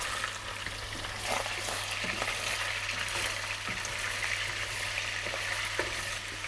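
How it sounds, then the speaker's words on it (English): Chicken pieces frying in hot oil in a frying pan, a steady dense crackling sizzle with occasional louder pops, continuous and close, with no talking over it. "So the oil is hot, we can check. Yeah, makes a nice noise."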